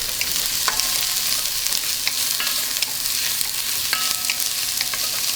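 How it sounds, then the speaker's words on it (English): Chopped garlic and onion fry in olive oil over medium heat for steak pizzaiola, giving a steady close sizzle with a few light clicks and pops scattered throughout. "We're gonna add the garlic and the onion. And we'll just let that fry up a little bit."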